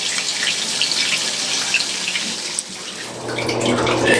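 A hotel bathtub faucet runs after its lever is switched to the tub spout, a loud, continuous rushing and splashing of water throughout.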